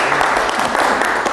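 Audience at a live seminar claps together, a short, dense, even round of applause lasting just over a second, close and fairly loud.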